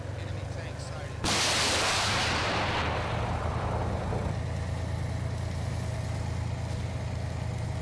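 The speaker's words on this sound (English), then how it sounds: "fires TOWs at an oncoming Russian tank" A Bradley fighting vehicle launches a TOW missile at a Russian tank in the Combat Mission: Black Sea battle game, a sudden loud whooshing blast that trails off over a couple of seconds above a steady engine rumble.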